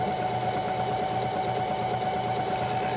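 A sewing machine stitching the edges of an envelope pillow: a loud, continuous, steady motor whir with rapid needle chatter, running unbroken throughout, no voices.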